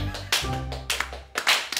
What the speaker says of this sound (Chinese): 没有自己给自个儿鼓掌的啊！